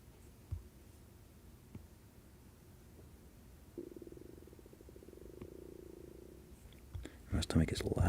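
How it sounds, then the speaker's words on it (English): A quiet, gurgling stomach rumble with a sustained low growl in the middle, accompanied by faint clicks and soft background noise, ending in a few louder scuffs. "My stomach is loud."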